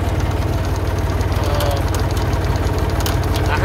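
A tractor engine runs steadily with a low, pulsing throb while driving a PTO-powered winch fitted with a welded cage, the line tied off to a poplar; the rumble holds constant and close throughout.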